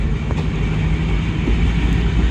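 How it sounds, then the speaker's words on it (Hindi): Jaffar Express passenger train led by locomotive 6419 passing slowly through Taxila Cantt junction station, a steady loud rumble of wheels and wagons with faint clickety-clack, no voices. "वाइट मरकरी लाइट के साथ 6419 40 टाउन जाफर एक्सप्रेस को लीड कर रहा है।"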